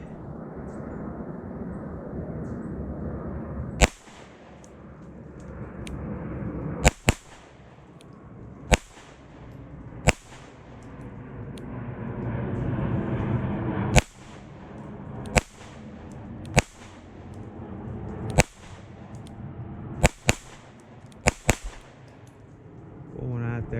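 A CZ P-10C Ported pistol fires a series of sharp, loud single shots at irregular intervals, some in quick pairs, over quieter background noise at an outdoor range.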